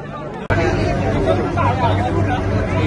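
Crowded Kolkata metro train: a thick, continuous babble of many passengers talking, with a low steady rumble underneath and a brief sharp knock near the start.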